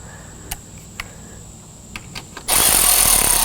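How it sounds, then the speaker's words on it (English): A nut being tightened onto a grounding bolt terminal during an LED light bar install on a 2022+ Ford Maverick: a few light metallic clicks and taps, then a loud, steady whir of a power tool spinning it down. "put this nut back on into place and tighten that down"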